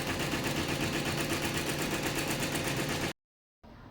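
An embroidery machine running steadily and fairly loud, with a dense rapid mechanical rhythm of stitching for about three seconds, then a sudden cut to silence before a faint low hum returns.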